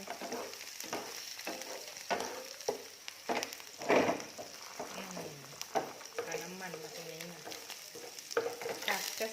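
Eggs hit a pan with a little sesame oil and are stirred and scrambled, crackling and sizzling up close with scraping strokes while someone talks over the cooking.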